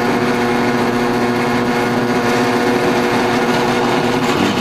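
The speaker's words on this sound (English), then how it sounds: "Normally I would not touch a moving drill bit." A drill turns at low speed as it bores through live homemade rocket propellant, giving a steady, whining motor hum that holds at an even level throughout.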